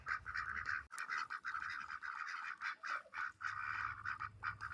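A farm flock of ducks or geese gives repeated honking, quacking calls in a nearly continuous, close chorus after a wind storm, with one sharp burst near the start.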